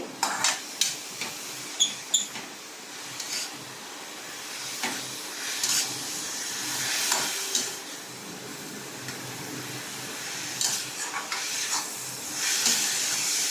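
Papaya and spices sizzle and hiss in a pan while being stirred and sautéed, a steady frying crackle broken by scraping clinks of the spoon against the pan.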